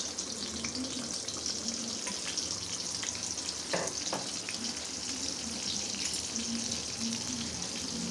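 Spices with onion paste, tomato paste, bay leaf, coriander powder and ginger-garlic paste for chicken korma frying in a pan, a steady dense sizzle close up with occasional stirring scrapes.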